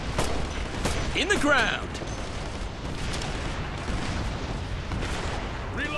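Gunfire and blasts crackle through a firefight in Operation Flashpoint: Red River, with a dense barrage of shots and booms under a soldier's brief radio callout, loud and continuous throughout.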